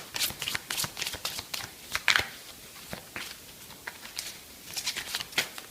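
Tarot cards being shuffled by hand for a reading, with quick riffling flutters and soft slaps in close, irregular bursts that pause midway and then resume.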